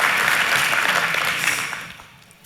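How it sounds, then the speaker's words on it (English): An audience at a business forum panel gives a round of applause: dense clapping that holds steady, then tapers off and fades near the end. "So big round of applause for the chicken biscuit."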